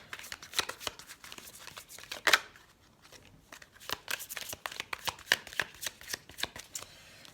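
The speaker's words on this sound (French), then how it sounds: "on va prendre une carte de l'oracle des elfes." Elf oracle cards shuffled by hand during a general card reading, a close, crisp run of rapid riffling flicks and slaps with brief pauses, no talking.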